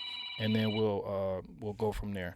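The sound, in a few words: mobile phone ringing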